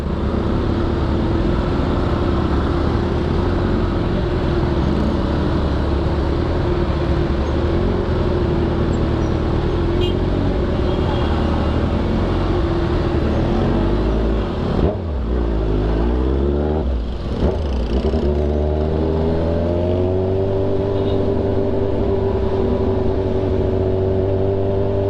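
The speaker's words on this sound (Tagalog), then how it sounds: "Dami oh, napaka-traffic eh." Heavy, congested road traffic with a steady wash of engines and tyre noise, a motorcycle idling close by, and a few vehicles revving and moving off partway through, with no talk over it.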